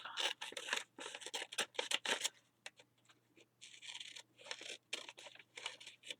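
Scissors cut through paper for a Halloween gluebook in quick close snips and slicing strokes, in two bursts separated by a short pause, with no voices.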